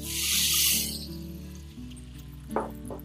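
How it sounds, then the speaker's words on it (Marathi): A small splash of water poured into a hot pan of tempering spices with coriander powder and chutney, the gas switched off, giving a brief bright hiss and bubbling that fades into low simmering quiet. "त्याच्यामध्ये आपण थोडंसं पाणी टाकून घेऊयात"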